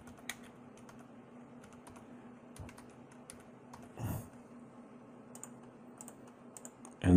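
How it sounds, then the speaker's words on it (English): Quiet clicking on a computer keyboard while a spreadsheet is filled in, with sparse, irregular keystrokes, a few taps heard singly against a low steady hum, and a louder bump at the very end. "I'm just going to type in A Rivers so I don't have to type out his whole name"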